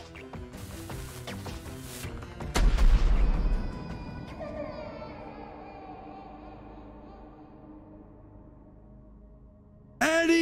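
A cannon fires in a video game: one heavy booming blast with a deep low rumble cuts through the game's music and effects, then fades. A second sharp burst follows near the end.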